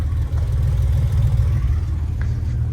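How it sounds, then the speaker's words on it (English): A low, steady Porsche 993 exhaust rumble idles throughout, a deep continuous burble with slight pulsing and no voices. "listen to the exhaust. Like, you hear like this old little rumble"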